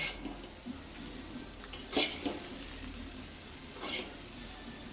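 Pulao ingredients for a prawn pulao being mixed in a pot, soft scraping stirs with a couple of faint metallic spoon knocks against the rim, fairly quiet and without talk.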